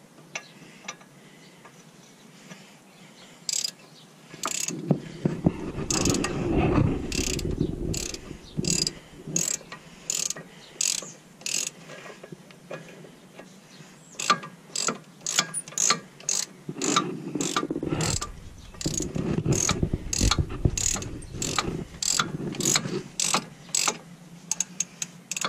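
A ratchet loosening a bolt on a Duramax engine gives rapid, evenly spaced clicks, close and fairly loud, with two stretches of heavier grinding turns in between, and no talk.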